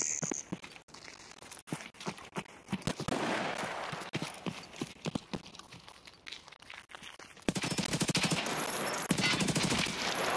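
Gunfire in the shooter game Escape From Tarkov, with rapid sharp shots fired in bursts through the first half, then a dense continuous volley near the end over background game noise.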